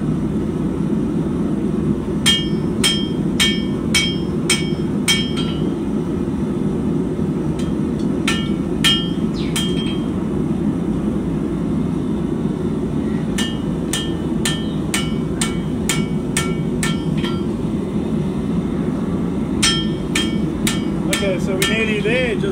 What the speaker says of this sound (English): cross peen hammer.